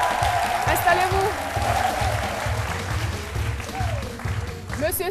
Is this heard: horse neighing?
no